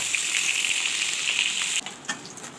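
River fish frying in a pan gives a loud, steady sizzling hiss that cuts off abruptly partway through, leaving a few faint crackles and soft knocks.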